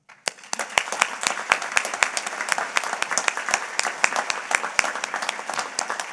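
An audience at an annual awards luncheon claps together in a steady, dense round of applause, with sharp individual claps close by punctuating it regularly from start to finish.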